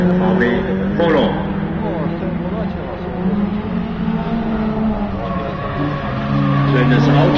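VW Polo race car on a rally course, engine roaring loudly past at speed with tire noise, under a continuous commentator's voice in German.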